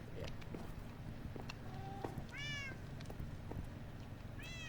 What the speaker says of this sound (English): Sylvester is the cat I had in Gamer City.